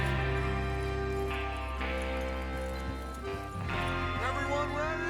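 Horses ridden in the video game Red Dead Redemption 2, hooves clip-clopping at a steady pace under game music and a character's voice, with a brief whinny-like sweep near the end.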